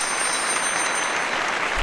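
Audience applause on a talk show, a dense, even wash of clapping that holds steady from start to end.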